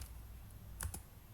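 A few soft keystrokes on a computer keyboard, a quiet pair of taps close together amid a low hum, brief and near.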